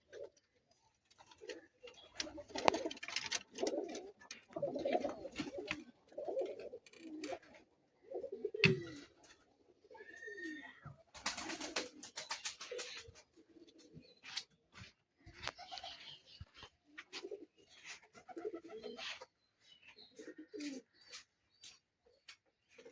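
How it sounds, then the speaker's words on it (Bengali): A large flock of around 150 pigeons, mostly red and sky-blue birds, coos and rustles nearby in irregular bursts of soft throaty calls with scattered clicks and flutters, quiet overall with gaps between. "কবুতর আছে মাশাআল্লাহ, অনেক কবুতর, ১৫০ কবুতর আছে।"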